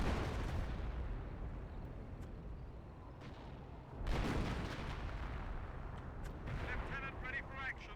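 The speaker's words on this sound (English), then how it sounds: "Some more arty fire." Artillery fire rumbles in the video game Company of Heroes 2, with a steady wash of distant booms and a louder impact burst midway, while voices talk over it.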